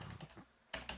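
Quick keystrokes on a computer keyboard, soft, close taps at first, then a brief lull and two louder clacks near the end, with no voices.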